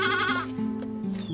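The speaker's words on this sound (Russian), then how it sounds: "Это козлята там? Да, мои козлята." Young goat kids bleat in a small Nepali farmyard, one close, wavering cry that breaks into several quavering pitch steps over about a second, loud and near.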